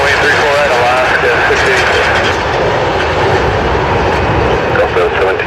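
Delta jet airliner taking off from runway 34 right at Seattle-Tacoma International Airport, a loud, steady broadband engine roar holding throughout with a radio voice over it.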